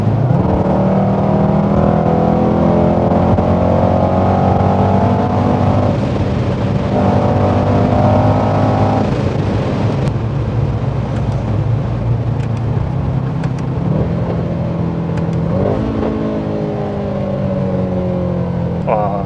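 A Mercedes-AMG GT63S in race mode accelerates with a steady, loud engine drone that rises in pitch through several gear changes, continuous throughout, with a person speaking over it.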